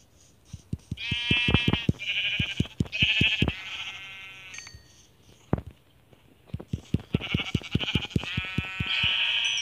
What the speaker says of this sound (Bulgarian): Там има 3 овце.